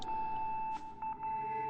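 A steady electronic beep tone drones nonstop through a Project Zero: Mask of the Lunar Eclipse game scene, a thin high note holding over low ambient hum, briefly broken by soft rustling noises.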